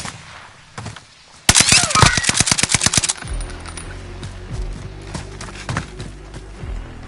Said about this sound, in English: I'm under fire! Watch your six.